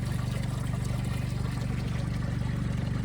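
Water from a bore hose running into a farm water tank, a steady close trickling and splashing with a low rumble underneath, no clear talk.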